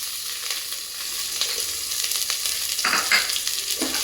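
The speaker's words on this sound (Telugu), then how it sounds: "కొంచెం రెడ్డిష్ వచ్చినంత వరకు ఫ్రై చేసుకుంటే సరిపోతుంది." Cashews and chopped onions frying in a pan for coconut milk pulao, a steady close sizzle with occasional scraping stir strokes.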